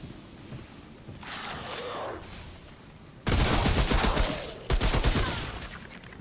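Enemies open fire in Remnant: From the Ashes, with loud sustained bursts of automatic gunshots arriving in two heavy waves after a quieter stretch of scattered shots, no talk.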